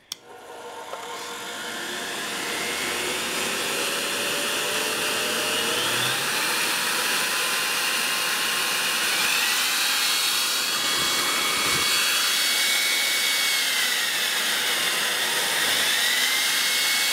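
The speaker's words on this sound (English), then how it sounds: "I think this is probably just a very strong vacuum motor. It sure sounds like it." A strong vacuum motor runs in a heavy cast metal housing, giving a steady, loud, continuous whine with a rising pitch tone. It holds constant throughout and no one speaks over it.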